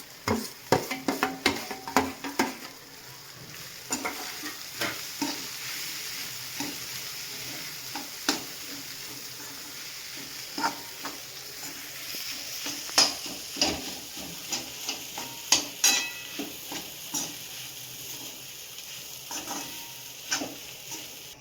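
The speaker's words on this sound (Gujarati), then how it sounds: "આપણે જે વટાણાને તુવેર ક્રશ કરીને રાખ્યા હતા એ આપણે એમાં નાખી દઈશું" Crushed green peas and pigeon peas fry in a pan for suji matar kachori filling, with a steady sizzle under repeated scraping stirs that come close and loud at times; nobody speaks.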